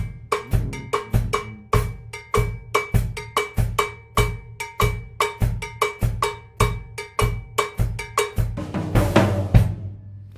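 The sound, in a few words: Bembe drum groove, hi-hat and bass drum in unison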